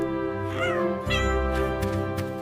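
A kitten in PAW Patrol 3D animation gives two clear, high meows close up, each short and rising, heard over a steady musical score.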